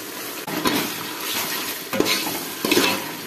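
Ginger garlic paste fries in hot oil in a pot for chicken biryani, a steady loud sizzle broken by several scraping stirs and clinks of a metal spoon, close by.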